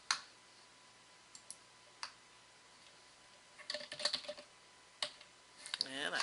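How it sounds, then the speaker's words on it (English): Computer keyboard keys click in short scattered bursts, faint and close in a quiet room, as a search term is typed into a library catalog search box, ending in a quick flurry of taps. "So let me type that into the search box."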